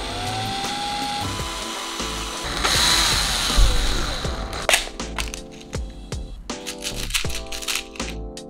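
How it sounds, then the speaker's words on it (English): A power drill bores holes into RC car wheel rims during a Tamiya Bandwagon 4WD conversion, a close whining burst followed by sharp rattling clicks and handling knocks. "try to drill a hole in these two rims for the front side."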